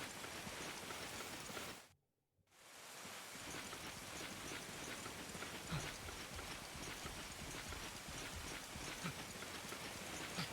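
Rain in the video game Monster Hunter Freedom Unite makes a dense, steady hiss of falling drops. It drops briefly to silence near the start, then returns and runs unbroken and fairly loud.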